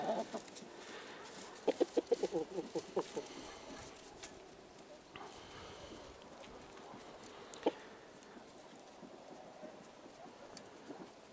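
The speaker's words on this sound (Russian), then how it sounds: "Вот того молодого петушка предлагают назвать Отеш" Chickens and a young rooster cluck in a backyard coop, giving soft scattered clucks with a burst of sharper calls early on and one more later, set against steady low background noise.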